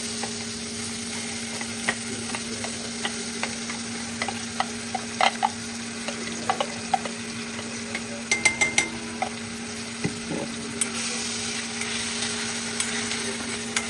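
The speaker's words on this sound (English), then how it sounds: "now I'm going to add our onions in" Onions frying with spices in a pot for chicken curry, a steady sizzle running throughout with scattered light clicks and scrapes of a utensil against the pot.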